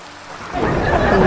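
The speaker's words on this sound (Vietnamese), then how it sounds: "Mưa liên tục luôn các bạn ơi" Continuous rain on a tropical island in a survival video game swells in after a quiet start, becoming a dense, rising hiss of downpour with low rumbling underneath.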